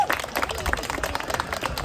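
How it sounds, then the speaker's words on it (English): A crowd applauds the volunteers of the CPC Dog Park, a steady round of clapping throughout with voices murmuring underneath. "Can we give them a big round of applause"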